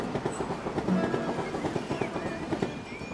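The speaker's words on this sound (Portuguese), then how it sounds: "do som do trem, que é um som bem presente aqui" A train passes in Franco da Rocha with steady clickety-clack wheel rhythm and rail rumble, moderately distant and continuous, with no voices over it.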